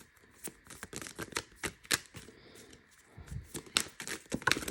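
A deck of cards is shuffled by hand in quick bursts of riffling and flicking, close and crisp, with irregular snaps and pauses between shuffles and no talking.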